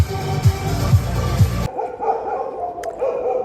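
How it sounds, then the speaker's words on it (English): Dogs bark out in the street at night in Durres, a few loud close barks in quick succession, then more distant barking and faint street noise after an abrupt drop. "So you can hear all that barking right now."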